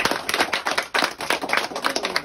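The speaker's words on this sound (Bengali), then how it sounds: "ওদের জন্য স্পেশাল হাততালি" A group breaks into dense, lively applause for team members at a salary-day celebration, with steady overlapping claps filling the whole moment close by.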